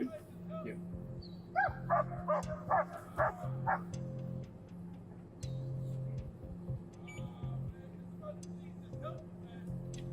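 A dog barks and whimpers in bursts during a police encounter, fairly close, mixed with shouted voices of officers and a low background engine hum.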